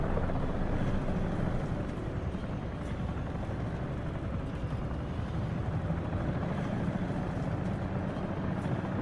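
Steady, loud rotor and engine drone of a Comanche helicopter flying in a VR flight game, a dense continuous rumble with no break and no talk.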